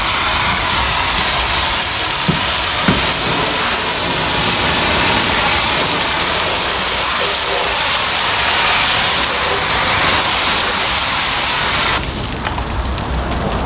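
A garden hose foam cannon sprays car wash foam onto a car, giving a steady, loud broadband hiss that runs almost unbroken, then thins out abruptly near the end.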